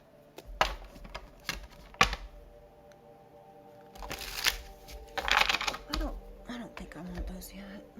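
Oracle cards riffled and shuffled in bursts of quick crisp flutters and soft slaps, close by, with quiet pauses between handfuls.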